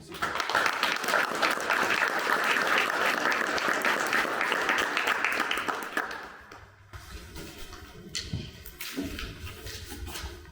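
Audience applause for the candidates at the close of a Texas House District 52 public education candidate forum: a dense, steady round of clapping that holds for about six seconds, then thins to scattered claps with quiet room noise.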